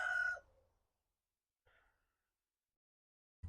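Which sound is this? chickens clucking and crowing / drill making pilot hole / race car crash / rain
chickens clucking and crowing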